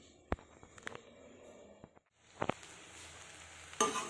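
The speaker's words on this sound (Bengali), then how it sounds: "এখনও ভাজা চলছে প্রায় এক ঘন্টার উপর ধরে ভাজাটা চলছে" Food frying slowly on low gas for over an hour, a faint soft sizzle with a few sharp utensil taps and stirring clinks scattered through.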